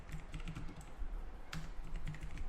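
Computer keyboard typing while code is entered: quick, close, steady clicking keystrokes in a continuous run, moderately quiet and with no voices over it.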